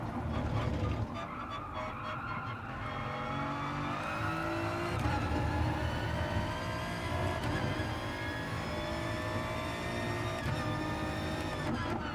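Car engine in a racing video game revving hard through rising gear changes, a loud continuous drone that climbs in pitch over and over with a steady mechanical whine.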